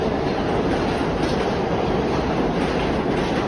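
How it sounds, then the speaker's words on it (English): A New York City subway train passes close by in Queens, a loud, continuous roar of wheels and rail rumble that fills the whole moment without letting up, with no voices. "Here comes another train."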